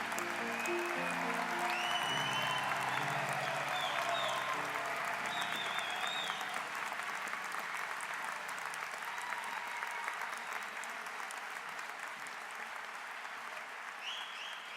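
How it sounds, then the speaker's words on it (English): A graduation hooding audience applauds the speakers in a long, sustained round of clapping that fills a large hall, fading slightly toward the end. "Please give them all a big round of applause."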